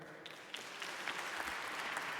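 An audience claps at a conference opening, a dense wash of applause that swells after a brief quieter start and then holds steady and fairly loud.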